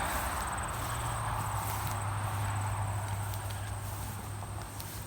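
Honey bees work a hive yard during a humid fall honey flow of goldenrod and asters, giving an even, continuous outdoor buzz that holds at a moderate level throughout.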